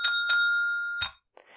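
A small tabletop bell from the Plingo party game rings twice in quick succession, then once more with a sustained bright ringing tone that fades, followed by a faint rustle.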